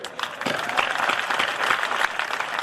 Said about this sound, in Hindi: ताली बेटा इतनी बजाओ,